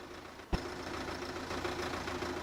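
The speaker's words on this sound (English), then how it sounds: "Perfect tractor. Absolutely ideal." A SAME tractor engine idles steadily in Farming Simulator 17, a low continuous hum and drone, after a brief dip and a sudden thump as it starts up.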